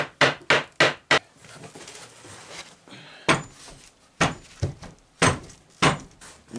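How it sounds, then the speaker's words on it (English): A hammer taps a small block of wood during a custom wooden bearded dragon enclosure build, a run of sharp, loud, close knocks in uneven bursts with brief pauses. "Just use a little block of wood and a hammer."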